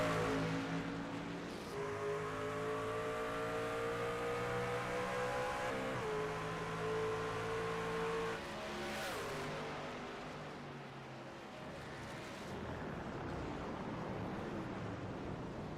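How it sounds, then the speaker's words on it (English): Race cars at the Red Bull Ring accelerate side by side up the straightaway, engines rising through the gears with loud layered revving whines and shifts, passing close then fading slightly toward the end. "Now they're gonna drag race up the straightaway."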